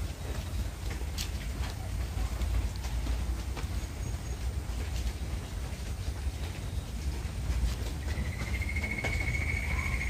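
Toads croak in a steady, continuous outdoor chorus of rapid pulsing calls, moderately loud and unbroken, with a thin whistle-like tone rising near the end and no talk.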